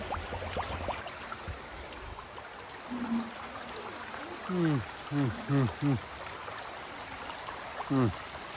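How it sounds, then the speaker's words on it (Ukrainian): Spring water trickles and flows steadily from the ground at a soft level in the Kamnik–Savinja Alps, while several short rising calls or voice-like sounds break in over it. "Просто з землі виходить вода."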